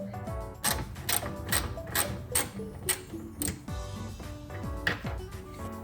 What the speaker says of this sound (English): that is the 10mm bolt that we need to get out